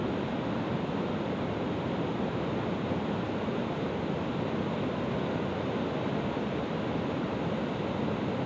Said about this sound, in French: Le son de la rivière